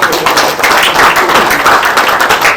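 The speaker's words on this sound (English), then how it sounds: "Big round of applause" Loud, dense applause from an audience at a ceremony event, steady and sustained throughout with no speech.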